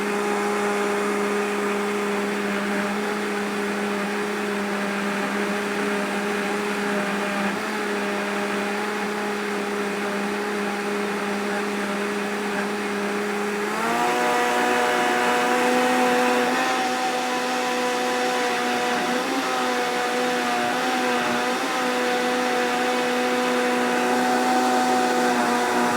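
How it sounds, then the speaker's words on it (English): A blender runs steadily for about 26 seconds, pureeing broccoli kale soup with a loud, constant motor whine that jumps in pitch and grows slightly louder partway through, with no talking. "blend it up. Keep it going. You want a nice puree."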